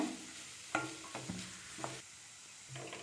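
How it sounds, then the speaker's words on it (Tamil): Grated cauliflower is stirred in a frying pan with a spoon, giving a faint sizzle under light scraping and a few soft knocks against the pan. "காலிஃப்ளவர் ஆட் பண்ணி நல்லா மிக்ஸ் பண்ணிக்கோங்க."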